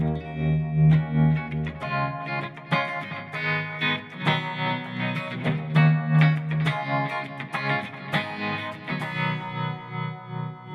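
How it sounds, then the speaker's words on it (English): An electric guitar played through a Line 6 HX Effects 60s bias tremolo, strummed chords and riffs wavering in a steady rhythmic volume pulse, slightly overdriven and continuous. "60s bias tremolo."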